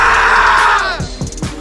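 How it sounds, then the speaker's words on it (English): A group of excited people at Disney World screams loudly together in one sustained burst that breaks off, then a few short voiced sounds follow. "They just want to scream at the top of their lungs."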